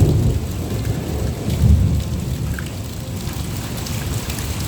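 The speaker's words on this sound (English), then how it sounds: "the next we had thunder, lightning and a whole lot of rain." Heavy rain pours steadily near Endeavour Inlet in Queen Charlotte Sound, with low rolling thunder rumbling through the downpour and swelling briefly midway, no voices.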